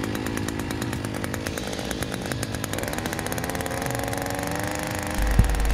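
A Hyundai HYEA5080 earth auger's small petrol engine runs right after a recoil pull, giving a loud, close, steady buzzing drone throughout, with a sharp knock near the end.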